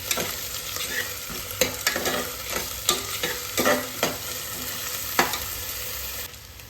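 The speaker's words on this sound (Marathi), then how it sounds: "इथे मी अद्रक लसूण मिरची आणि कोथिंबीरची कोथिंबीरचं जे वाटण केलेलं होतं ते मी टाकून घेणार आहे ते सुद्धा चांगलं परतून घ्यायचं आहे" Onion with ginger, garlic, chili and coriander paste frying for a mutton curry, a steady sizzle punctuated by repeated sharp spatula scrapes and knocks against the pan.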